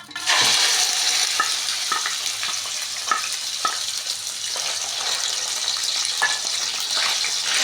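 Beef liver going into a hot pan, a steady bright sizzle and hiss with scattered pops and spatters throughout.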